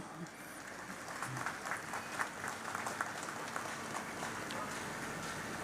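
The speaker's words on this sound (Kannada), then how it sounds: "ಎಲ್ಲರೂ ಸಹ ಚಪ್ಪಾಳೆ ತಟ್ಟುವ ಮೂಲಕ ನಮ್ಮ ಗೌರವವನ್ನು ಸಲ್ಲಿಸೋಣ" Faint, distant audience applause at a church gathering for the blessing of a decorated chariot at St. Mary's Basilica, steady clapping with some voices mixed in.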